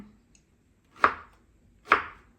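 Knife chopping through an Australian-imported mango on a cutting board for mango sticky rice: two sharp, close chops about a second apart, with no talk.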